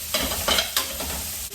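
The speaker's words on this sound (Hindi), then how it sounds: "सबसे पहले मैं डालूंगी लहसुन और हरी मिर्च, और इसको करना है फ्राई" Garlic and green chilies fry in a pan with a close, steady sizzle, punctuated by three quick scraping stirs in a brief burst.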